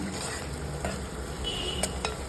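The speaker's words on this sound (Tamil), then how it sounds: "வெங்காயத்தை நல்லா வதக்கிடுங்க." Steady sizzling of onions sautéing in hot oil in a pan, with a few soft scrapes of stirring and no talk.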